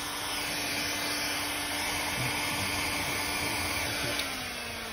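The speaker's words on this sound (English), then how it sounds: "For the heat gun." A heat gun warms a Maxton gloss black lip spoiler on an Audi A6 C7 saloon bootlid, producing a constant loud blowing roar with no change in level throughout and no talking.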